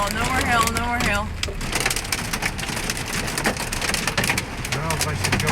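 Hail hammers a vehicle on the road, a dense, continuous crackling patter on the body and roof, with people talking over it throughout.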